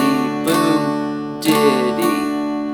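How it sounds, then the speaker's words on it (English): Acoustic guitar strummed in a steady boom-diddy rhythm, a bass note followed by quick strums, repeating clearly and fairly loud with no voices. "I'm going to do that boom diddy pattern with my guitar, which is going to sound like this."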